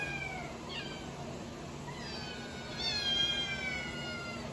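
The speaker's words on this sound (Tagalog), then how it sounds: "Yan yung mga pusa po namin" Several cats meow in turn, rising and falling calls layered over a steady low hum, moderately close.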